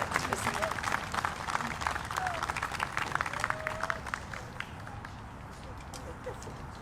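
A crowd at a Libertarian presidential campaign rally in Covington, Kentucky claps for the candidate, a moderately distant, uneven patter of many hands with some voices and shuffling mixed in.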